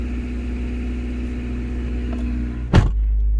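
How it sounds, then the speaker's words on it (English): A classic car's engine runs at a steady idle throughout, a close, constant rumble, with a sharp brief clunk near the end after which the low drone continues. "Put the key in the ignition and it's on just like that."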